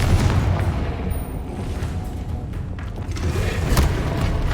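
Confringo explosive spell in Hogwarts Legacy combat, with dull booming blasts and crackling impacts over a continuous rumbling battle noise, loud and close throughout.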